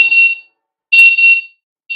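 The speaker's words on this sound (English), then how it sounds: "Or you can activate the alarm manually." An AirBolt smart lock's anti-theft alarm sounds as loud, shrill electronic beeps in repeated bursts, two long blasts and the start of a third, with no talk.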